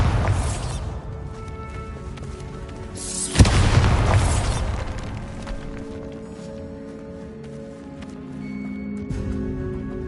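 A Bombarda spell explosion in Hogwarts Legacy: one sharp, loud boom a third of the way in, followed by a rumbling decay and scattered debris over game ambience.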